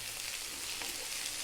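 Eggplant (brinjal) slices fry in a hot pan over high heat with salt, a steady close sizzle with crackling spits throughout, alone without voices.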